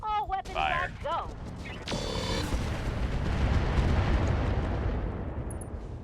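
Mech weapons in a BattleTech-style game fire in a burst: sharp electronic zaps and mechanical clanks, then a heavy rumbling barrage of explosions that swells and lingers, loud and close, with a voice speaking over the start.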